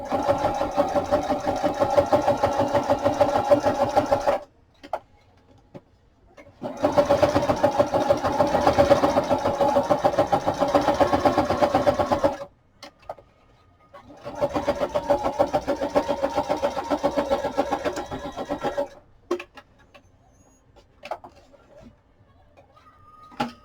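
A sewing machine runs a straight stitch on a small paper file folder project, in three sustained mechanical whirring runs separated by brief pauses, close and fairly loud.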